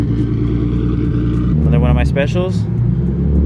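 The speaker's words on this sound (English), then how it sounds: "First start up on the new injectors." A turbocharged Nissan 350Z engine fires up for the first time on new injectors during a street tune, settling into a loud, steady idle rumble with a rev blip midway, while people talk over it.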